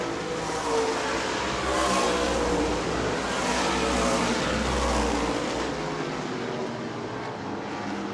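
Race cars roar around the New Smyrna track during a World Series event, a steady dense engine drone with swelling passes heard from a distance.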